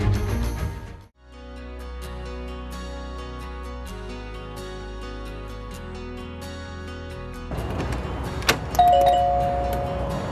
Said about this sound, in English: how many travel trailers have a doorbell?